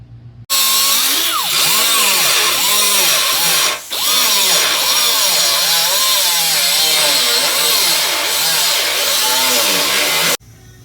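A power saw cuts a piece for a custom hidden fuel cell mount on a Buick Regal Winston Cup race car. The motor whines loud and close for about ten seconds, its pitch rising and falling, with one brief dip midway.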